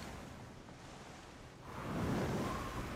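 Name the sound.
ocean waves in the video game Skull and Bones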